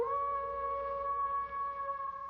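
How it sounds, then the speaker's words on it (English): A single sustained wolf howl, steady and clear with strong harmonic tones, holding at moderate loudness against a quiet background. "Wolf. It's a wolf."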